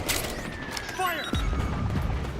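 Gunfire from the Metal Gear Solid 4 video game, a short burst of shots with a heavier boom near the end. Battlefield noise and voices are mixed around it.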